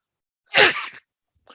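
One short, forceful sneeze bursts out close by, then quiet.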